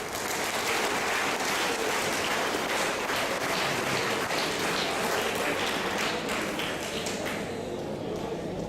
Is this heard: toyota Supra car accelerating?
no